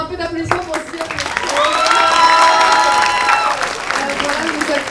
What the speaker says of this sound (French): s'il vous plaît, un peu d'applaudissements pour Ziad.